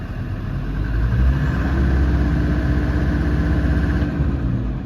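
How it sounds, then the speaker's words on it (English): A Land Rover Defender Td5 diesel engine holds a steady, close idle around 750 rpm, then climbs briefly under a light rev and settles back to a continuous rumble, with no voices. "We're idling at 750, and give it a little rev, and it goes up."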